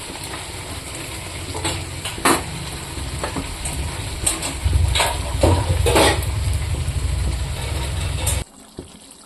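Chopped onion frying for chicken curry, a steady loud sizzle with intermittent stirring scrapes and spoon knocks against the pan, cutting off abruptly near the end.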